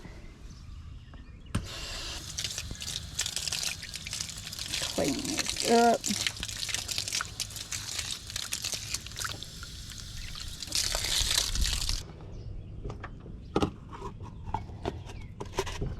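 Clean water poured from a container into a drinker for baby chicks in a barn nursery, a steady broad splashing stream lasting several seconds, with a voice speaking over it and a brief bubbling gurgle midway.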